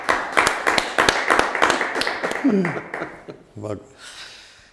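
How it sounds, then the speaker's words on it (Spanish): A short burst of clapping from a few people, mixed with voices and laughter, fading out after a few seconds. "Paco, dale un aplauso, Paco, dar un aplauso."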